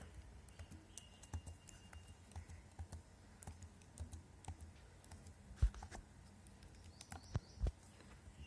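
Faint, scattered keystrokes on a computer keyboard as a password is entered at a Kali Linux login, with a few louder clicks and soft background noise and no speech.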